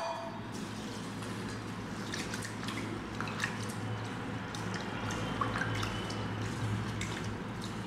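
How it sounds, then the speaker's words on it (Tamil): Soaked rice rinsed in water for adai dosa gives soft, continuous sloshing and dripping, with light splashes and trickles, close and fairly quiet, with no talk. "அரிசி நல்லா அலசிடுங்க."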